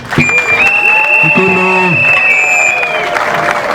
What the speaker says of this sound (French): Il mérite aussi vos applaudissements.